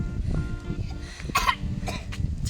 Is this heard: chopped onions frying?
no